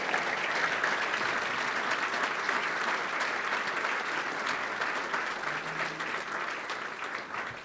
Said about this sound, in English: I don't know why we're waiting to clap, but we need to do it right now.